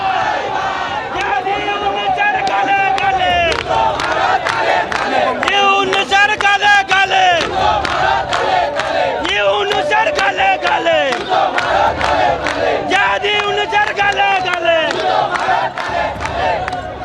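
Crowd of protesters sitting in a street in Kolkata chanting slogans in loud rhythmic unison, repeated call-and-response phrases filling the whole stretch without pause.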